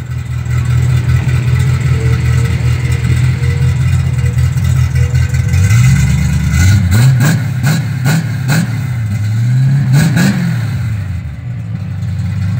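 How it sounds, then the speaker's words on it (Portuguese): A Dodge Dart Swinger V8 fitted with an aftermarket exhaust idles with a deep, loping rumble, then is blipped in a rapid series of sharp revs, each rising and falling back, close and loud. "dá uma aceleradinha aí, de leve, pra eu gravar aqui o som"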